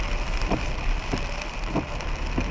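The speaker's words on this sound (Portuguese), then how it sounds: "que chuva e que vento hoje" Steady rain patters down in Japan with a rushing wind noise, occasional soft gusts swelling and fading, no voices.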